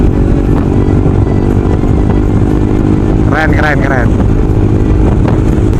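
A motorcycle rides through orderly traffic in Malaysia, its engine a steady low drone mixed with wind buffeting, while someone speaks briefly over it partway through.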